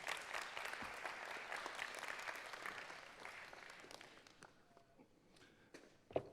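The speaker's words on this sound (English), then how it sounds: "Please give them a round of applause." An audience claps steadily for speakers walking up to the stage at a film screening and panel discussion. The applause is dense and fairly near at first, then thins and fades over the last seconds.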